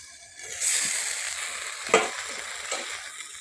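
Bottle gourd curry with pumpkin badi sizzles steadily in a pan while a spatula stirs it, with a few distinct scraping strokes standing out near and clear, no voices.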